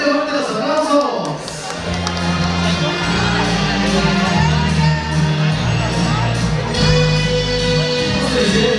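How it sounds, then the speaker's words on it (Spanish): Applause and cheering from wedding guests for the bride and groom, Rubí and Hugo, as a steady loud crowd wash under music, with voices and hubbub mixed throughout. "fuertes aplausos para los novios"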